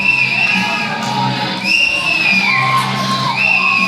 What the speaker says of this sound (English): I cannot hear you over this Wichita crowd.